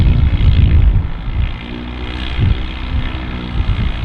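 A propeller aircraft lands in choppy, gusty wind at Manchester City Airport, its engine a steady, fairly loud drone with a low rumble that swells and dips as it passes close by.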